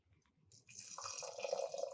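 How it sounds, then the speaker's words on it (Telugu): Water is poured into a pot to cook rice for sweet pongal. A faint start gives way to a steady, close splashing stream that rises in pitch as the vessel fills. "1కి 2 నీళ్ళు పోసి స్టవ్ మీద పెట్టేద్దాం."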